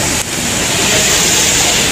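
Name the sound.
small waterfall near a temple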